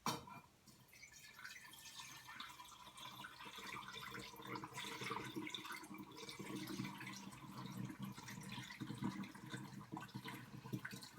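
Sugar water dissolved for kombucha poured into a container of black tea, making a steady, soft liquid trickle with light splashing and faint glassy drips throughout, moderately close and without talk.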